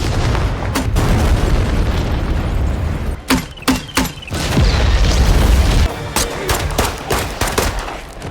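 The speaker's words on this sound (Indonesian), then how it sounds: "Tyler segera menembaki semua pasukan Surab hingga tak tersisa" Gunfire from the action film Extraction 2: loud bursts of shots and booming impacts crack over a dense rumbling battle bed, with a brief lull of sharp single reports before the roar resumes.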